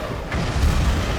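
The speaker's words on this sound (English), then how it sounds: "Huge explosion as the Spinosaurus takes damage." Deep booming explosion in the LEGO Jurassic Park III video game as the Spinosaurus takes damage, a loud low rumble that swells and holds briefly.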